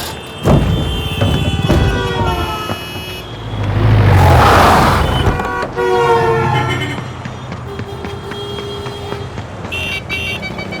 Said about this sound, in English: we used a Doppler effect of the horns of the traffic